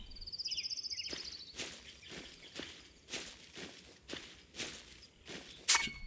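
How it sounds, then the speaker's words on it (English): A hunter's footsteps in the survival game Hold Your Own, a series of faint, evenly spaced steps crunching nearby over quiet ambient noise, with a bird chirping at the start. "If you hear those footsteps, we've got a hunter somewhere around the place"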